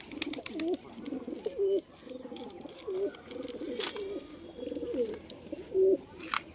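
A steady run of low, rolling coos from pigeons kept in a coop, overlapping calls repeating every second or so at moderate volume, with no voices.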